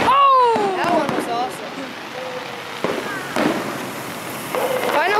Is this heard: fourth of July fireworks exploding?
yes